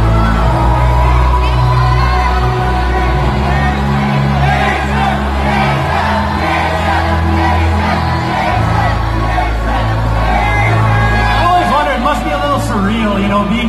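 Fans at the Aquaman premiere in Manila cheer and shout, many of them dressed as the character. The crowd roar is loud, continuous and close, with whoops and screams rising throughout.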